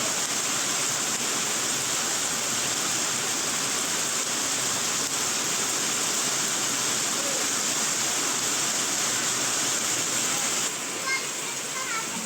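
Heavy rain in Delhi, a dense, steady hiss of downpour filling the whole clip at constant loudness with no pauses.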